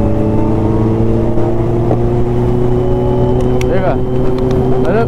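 A Kawasaki Ninja H2 superbike drones loudly and steadily with a strong engine tone during a power wheelie on an expressway, while a voice talks over it.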